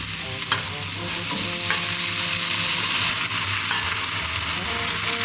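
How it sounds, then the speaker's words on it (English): Tomatoes and onion frying together in a pan: a loud, continuous close-up sizzle with occasional scrapes and clicks of a stirring utensil, and no one speaking. "Now we can add all of our tomatoes."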